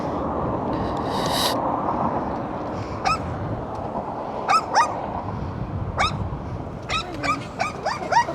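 A dog gives a string of short, high yips and barks, scattered irregularly and some in quick pairs, close by over a steady low background rumble.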